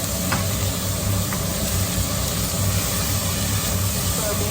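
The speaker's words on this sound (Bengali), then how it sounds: "তো আমি মাংসের মশলাটাকে একটু ভালো করে ভেজে নেব, কষিয়ে নেব 1-2 মিনিটের মতো।" Beef curry spice masala frying in a pan, a steady, dense sizzle that holds loud and close throughout, with no talk.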